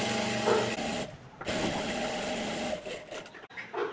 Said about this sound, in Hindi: और पलटने के बाद हम यहाँ पूरी में सीधी सीधी सिलाई लगाएंगे।